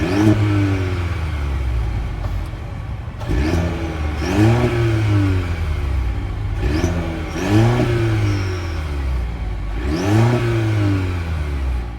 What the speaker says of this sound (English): let's fire up this 2-liter turbocharged inline 4-cylinder engine and hear how she sounds.